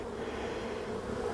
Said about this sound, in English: Good cluster of bees here.